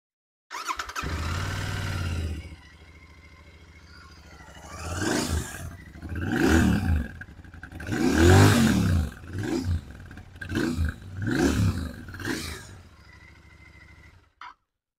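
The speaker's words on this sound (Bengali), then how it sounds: "তো লেটস চেক যে এর স্টক এক্সস্টের কিরকম সাউন্ড আসছে।" A Royal Enfield Interceptor 650 E20 on its stock exhaust starts up and idles, then revs in several loud, close bursts before settling back and cutting off.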